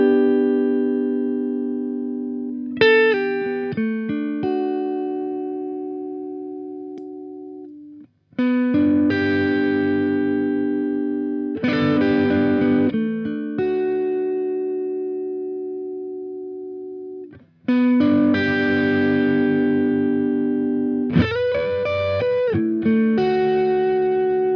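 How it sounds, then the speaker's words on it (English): Electric guitar through an overdrive pedal, distorted chords and notes ringing out with long sustain, played in phrases separated by short pauses, no voices. "So it's almost like a tube distortion of an amp."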